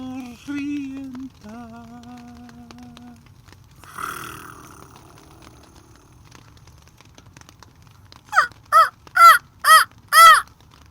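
A crow cawing five times in a steady, evenly spaced series, loud and close, after a quiet stretch with a few soft tonal sounds.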